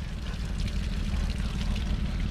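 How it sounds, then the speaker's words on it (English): Water trickles and pours steadily from a leak beside a park trail among rocks and valleys, a continuous rushing wash heard close and fairly loud with no talking. "Water leak."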